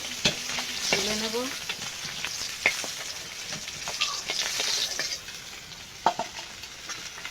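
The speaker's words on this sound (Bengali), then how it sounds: "বাকি মাছগুলো ভেজে নেব।" Fish frying in oil in a wok, a close, steady sizzle punctuated by sharp clicks and spatters and the occasional scrape of stirring.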